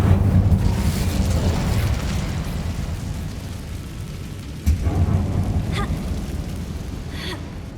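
An Incendio fire spell bursts in an abandoned mine in Hogwarts Legacy, a sudden muffled whoosh and pop rising over a loud, steady rumbling ambience, with faint crackling afterward.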